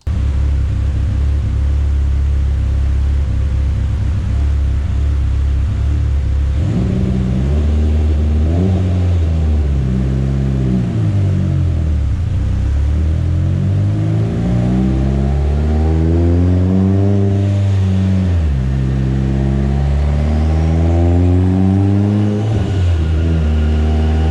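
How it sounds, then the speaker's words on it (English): A turbocharged Mitsubishi Evo X with a built block, AMS turbo, TMP cams and flex fuel revs hard on a dyno at about 25 psi boost, a loud, close, sustained engine roar climbing and dipping through repeated pulls. "This is on 25 psi, and I'm going to try to add boost, but I don't think this turbo is going to let me."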